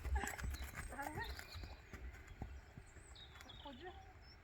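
Hooves of a horse that is limping during a training session, an uneven clip-clop moving under a person's talk, with faint other calls in the background.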